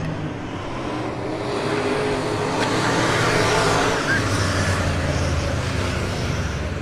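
Super stock race cars running three wide into turn three at a weekly POWRi dirt oval race, a loud, dense engine roar that swells and holds steady as the pack passes, with no voices over it.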